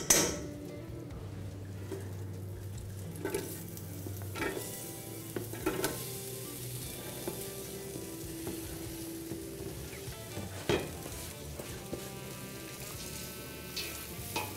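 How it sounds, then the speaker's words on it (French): Butter sizzles in a preheated saucepan, a soft steady frying crackle joined by occasional clinks and scrapes of stirring and cookware. "Donc notre casserole est déjà préchauffée. On va y ajouter une bonne noix de beurre"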